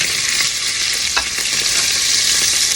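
Oxtails sear in a hot pan with a loud, dense, continuous sizzle, broken by a few faint scraping clicks of stirring.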